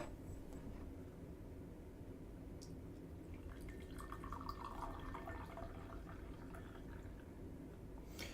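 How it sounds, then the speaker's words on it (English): Water is poured into a kyusu teapot for a second brewing of kukicha, a soft, steady trickle and splash that is very faint and close, running continuously without voices. "We just pour the water in,"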